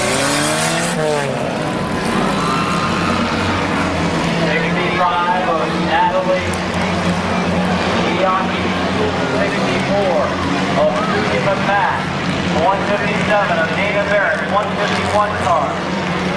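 Race cars circling the oval at Midvale Speedway during a 2005 event, engines droning steadily and continuously throughout, with a track announcer talking over the roar.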